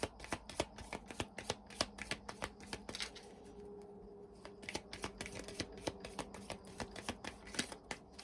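A fairy oracle card deck being shuffled by hand in a quiet room, giving rapid repeated riffling flicks and taps in bursts across the whole stretch, close and fairly soft.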